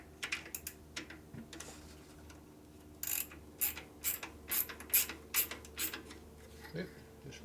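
Tightening a part on a 1965 Harley-Davidson panhead 74ci FLH motor: a series of quiet ratcheting clicks and metallic taps, irregular at first, then in a quicker run of bursts, close by in a workshop.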